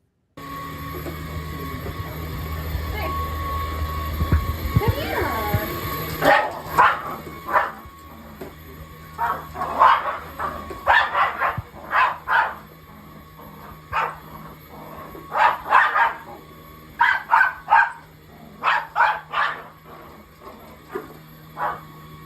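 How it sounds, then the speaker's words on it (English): A dog barks repeatedly at a running vacuum cleaner indoors, loud, close bursts coming in quick irregular clusters over the steady whine of the machine. "It was a dog just fighting with the vacuum."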